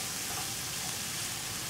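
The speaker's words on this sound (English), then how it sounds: "we just give this a good stir" Chopped green and red peppers stirred in a hot pan, giving a steady, close sizzle with soft scraping of the spoon throughout and no talking.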